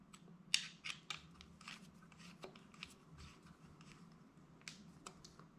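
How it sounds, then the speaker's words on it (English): Small metallic clicks and ticks come from screws being tightened at the front of a Leshiy 2 airsoft rifle compact shroud. The sharp taps are faint and close, scattered irregularly over a quiet background. "tighten the screws at the front"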